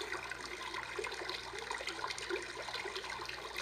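Brook setting on a white noise sound machine: a constant rushing, babbling water texture with small bright trickles, steady and close, without any voices.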